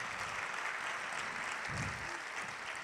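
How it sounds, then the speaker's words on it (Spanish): Audience at a drum festival in Seville claps continuously, a quiet, steady patter of many hands from a distance. "Más un aplauso, sí, se lo merecen."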